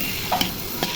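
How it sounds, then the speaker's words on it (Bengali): Eggplant pieces frying in spices in a pan for rohu fish curry, a steady sizzle with a couple of brief stirring scrapes. "বেগুনগুলো কষিয়ে নিব।"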